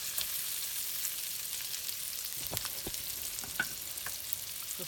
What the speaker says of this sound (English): So see, the longaniza, we're cooking it.